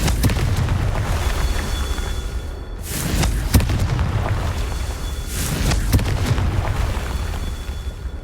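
Confringo explosive spell in the Hogwarts Legacy video game, heavy booming blasts with sharp bursts, two strong explosions a few seconds apart over a rumbling, crackling battle background.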